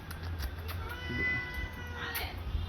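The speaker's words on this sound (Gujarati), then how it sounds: "મીંદડો તો અચાનક આવ્યો છે" A cat meows nearby, two drawn-out cries a moment apart over a low background hum.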